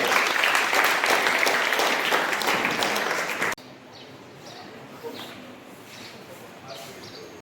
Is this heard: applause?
yes